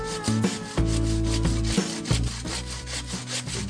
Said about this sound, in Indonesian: Di sini saya gunakan gergaji untuk memotong sabutnya.